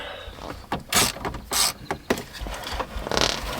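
A bolt is worked loose from the radio unit in the dash of a 1980 Cadillac DeVille, with short metallic clicks, ratcheting and rattles close by in bursts.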